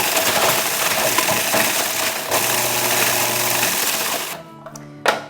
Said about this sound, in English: we're just gonna run them through the food processor here to the crumbly